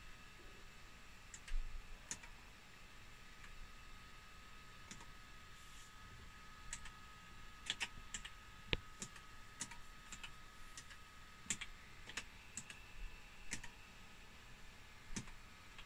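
Keys clicking on an Amstrad ALT286 retro laptop keyboard, sparse irregular taps at close range over a steady background hum, with no talking.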